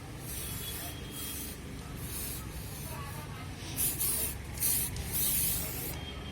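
An aerosol spray-paint can hisses in a series of short bursts while painting a helmet, each a second or less, with quiet pauses between and the last few louder.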